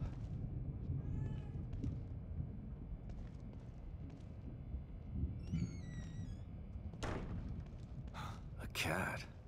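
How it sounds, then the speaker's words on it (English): A cat meows a few times in The Evil Within 2, soft and high over a low, rumbling game ambience, followed by louder clattering thuds near the end. "A cat?"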